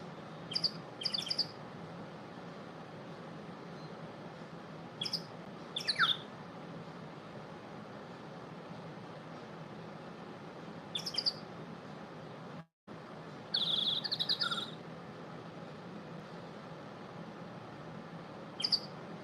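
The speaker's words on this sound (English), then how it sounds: "Enjoy the bird sounds." Birds chirp in the ambient soundtrack of the Phoenix Wright: Ace Attorney video game, brief bright tweets in scattered bursts over a constant low background hum, with a short dropout partway through.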